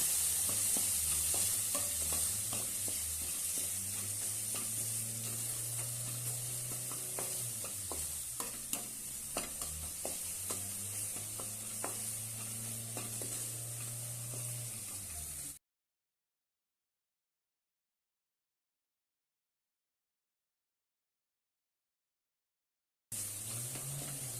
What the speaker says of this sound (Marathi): अर्धा चमच पोड चवीनुसार मीठ आणि छानपैकी परतून घेऊया